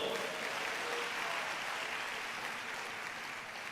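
A church congregation claps together during worship, a dense, even wash of applause that sounds somewhat distant and fades slightly toward the end.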